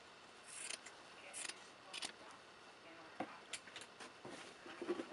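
Scissors trimming a fabric quilt piece for a Lone Star quilt made with printed interfacing, heard as several quiet, scattered snips close up with light rubbing in between.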